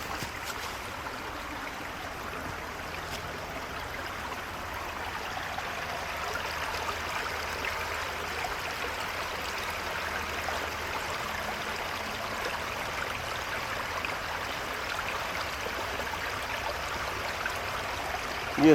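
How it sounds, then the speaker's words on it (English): Continuous gentle rushing of a flowing creek, steady and even throughout, with no voices. "listen to this creek, stream, creek, whichever one it is."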